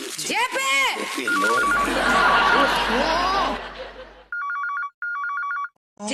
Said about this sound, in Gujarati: જેટલી વાર ફોન વાગે મારે દોડી દોડીને ફોન